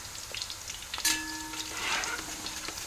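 Sliced raw banana chips fry in hot oil for Onam upperi, a steady crackling sizzle with a brief metallic scrape of stirring to keep the slices from sticking.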